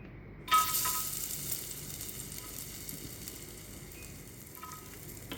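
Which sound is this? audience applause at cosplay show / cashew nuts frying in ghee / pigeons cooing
cashew nuts frying in ghee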